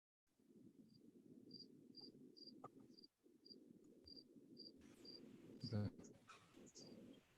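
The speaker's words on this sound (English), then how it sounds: "Literally hearing crickets." Crickets chirp in a regular pulsing rhythm over a low background murmur, with a brief louder clatter near the end.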